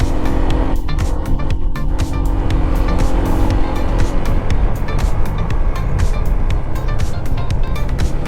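A Honda ADV scooter climbs a gentle uphill road on a Bataan mountain loop, its engine droning steadily with wind rush for the whole stretch, loud and close with no talking.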